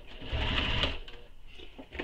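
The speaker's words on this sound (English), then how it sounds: "Now we need to sew this with the next seam allowance." Sewing machine running steadily as it stitches a seam on a tote bag, a continuous close whirring hum that slows and pauses briefly near the end before starting again.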